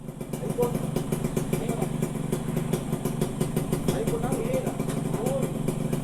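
A group of four Yamaha RX-King motorcycles and one Kawasaki Ninja idles and rumbles together at Tana Toraja, a steady, close engine drone with sputtering pulses while people talk over it.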